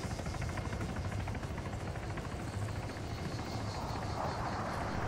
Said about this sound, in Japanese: あれが脱出ヘリね。